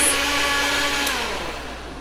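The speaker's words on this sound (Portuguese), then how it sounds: "Um barulho, hein? Esse liquidificador." A blender running continuously while making a smoothie, a steady broadband whir that holds at high level and tapers slightly toward the end, with no talking.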